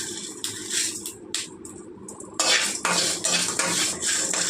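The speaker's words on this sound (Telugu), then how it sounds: "ఇప్పుడు మనం లాస్ట్లో కొంచెం నువ్వులు వేసుకొని ఫ్రై చేసుకుందాం." Sesame seeds fry in a pan while a metal spoon stirs them, producing close, repeated scraping and clinking strokes against the pan in quick bursts with brief pauses between.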